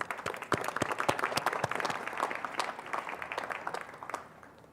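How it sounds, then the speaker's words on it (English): Applause from a graduation ceremony audience after a performance by school traditional drummers, a dense patter of many hands clapping steadily at moderate distance before tapering off at the end. "So give them a round of applause."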